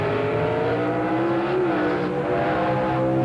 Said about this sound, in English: Bastianelli sticks with that 351 Cleveland-headed small block Ford engine against Price's big block Chevrolet